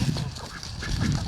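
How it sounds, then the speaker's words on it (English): Garden ducks quacking and honking in a busy, close cluster of rapid calls over about a second, with no talk. "The ducks getting in on the action"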